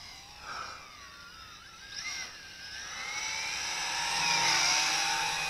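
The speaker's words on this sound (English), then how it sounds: "We got two cheap quadcopters" Cheap quadcopter drones, a Syma X8C and a Tarantula X6, flying fast outdoors: a high, whining rotor buzz that sweeps up and down in pitch as the craft bank and accelerate, swelling louder toward the end, with no voices.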